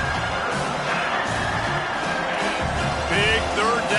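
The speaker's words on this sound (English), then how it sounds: "the crowd gets behind this defense" Stadium crowd in a football video game cheering for the defense, a steady wide roar of many voices that swells slightly near the end, with a commentator talking over it.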